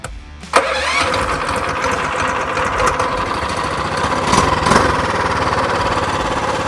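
A Mega Moto 212 mini bike engine fires up after a brief pull and settles straight into a loud, steady, rattling run close by, with no talk over it.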